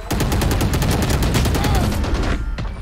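Rapid gunfire from the shooting game Valorant, dense and loud, with continuous automatic bursts that stop near the end and leave one last isolated shot.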